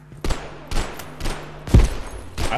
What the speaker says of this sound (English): They're literally just shooting.